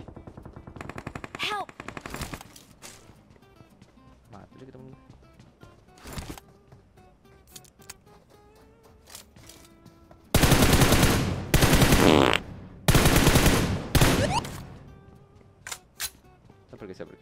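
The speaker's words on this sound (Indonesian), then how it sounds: "Mana sih musuhnya nembakin gua?" Enemy gunfire rattles through a PUBG Mobile match. Scattered single shots come first, then two loud, dense bursts of rapid automatic fire, with a player talking in between.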